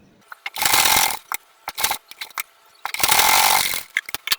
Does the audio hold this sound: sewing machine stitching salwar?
yes